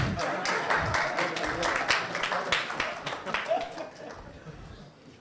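Audience clapping at the launch of the NSMQ 2022 quiz competition, a dense round of applause that peaks early and slowly thins and fades over several seconds, with some crowd noise mixed in.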